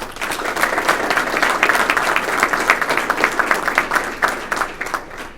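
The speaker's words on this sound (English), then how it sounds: "Give yourselves a round of applause." A room full of people claps at a sheriff foundation service award ceremony, the applause steady and lively from start to finish, close and fairly loud, with no speech over it.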